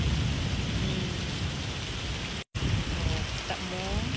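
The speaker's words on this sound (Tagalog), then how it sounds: "I-vlog na ako ng ulan karon guys." Heavy rain pours down steadily and loudly, a dense continuous wash broken by a brief dropout near the middle, with faint tonal sounds toward the end.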